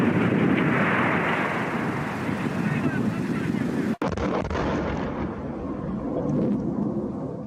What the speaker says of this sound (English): As we filmed, shells began falling all around.